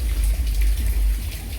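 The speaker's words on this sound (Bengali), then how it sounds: "রোদ হচ্ছে, বৃষ্টি হচ্ছে" Steady rain pours down during a sunshower after heavy rainfall, a dense continuous hiss and patter of drops, loud and close, with no voices.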